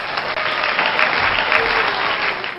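Steady, dense clapping from a small group fills the whole stretch, loud and close with no voices over it, in a home setting after finishing box braids.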